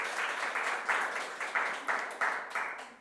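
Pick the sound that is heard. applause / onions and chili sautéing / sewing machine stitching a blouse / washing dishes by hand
applause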